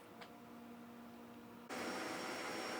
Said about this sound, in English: Just started the benchy print and it's calibrating, doing its stuff.